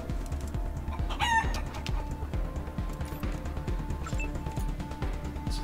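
Chickens cluck steadily and a rooster crows once in a farmyard scene from the video game Wasteland 3, a busy, moderately loud flock heard alone without talk.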